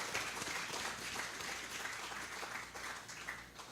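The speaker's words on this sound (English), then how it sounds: "A big applause for Prof." A crowd at an inaugural professorial lecture gives steady applause for Prof. Ahmad Ainuddin Nuruddin, fairly faint and distant, a continuous even patter lasting several seconds.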